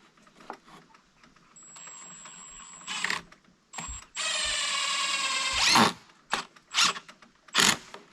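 Plastic bucket feeder pieces screwed together with a power drill, several whirring bursts of the drill driving screws, separated by short pauses and clicks of handling, close and loud.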